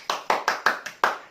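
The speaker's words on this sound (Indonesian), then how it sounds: "semuanya tepuk hebat, hebat, hebat" Six sharp, evenly spaced rhythmic claps from a group of women joining a cheer during a savings lesson, close and crisp with no talking.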